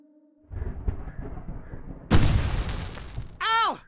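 Fireworks go off in the Alan Wake Remastered video game: a sharp, loud bang followed by a crackling burst and rumble, with a rising whistle-like sound at the end, heard up close.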